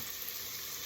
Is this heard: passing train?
no